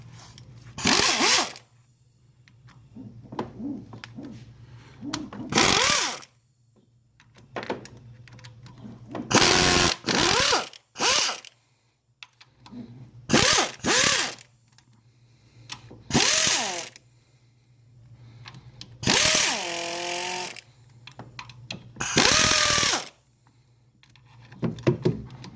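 Valve cover studs are loosened on a 2003-2006 Kia Sorento engine with a ratchet, giving repeated bursts of loud, close mechanical clicking and whirring separated by short pauses over a steady low hum.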